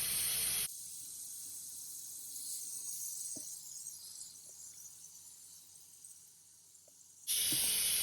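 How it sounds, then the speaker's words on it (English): Water poured and gently squeezed onto a knitted sweater during wet blocking, a soft steady trickle with faint drips, framed by louder hissing flow at the start and end. "Yeah, I can still put a little more water on top of this."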